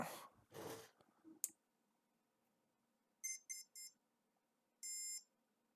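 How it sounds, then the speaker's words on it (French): A manual CNC machine emits three quick electronic beeps followed by one longer beep, clear and close, after some brief rustling and clicks at the start. "Ça fait bip bip bip."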